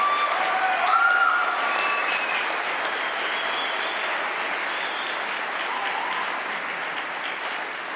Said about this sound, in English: Let's give one more hand and a round of applause for our Xavier University interns.